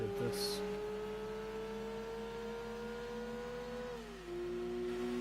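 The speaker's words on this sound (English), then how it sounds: "my engine is screaming very loud" A car engine in the racing game Gran Turismo 2 holds a high, steady whine during a Grand Touring Car Trophy race, then drops in pitch as it shifts. The engine sound is faint and the game's sound effects play in the background.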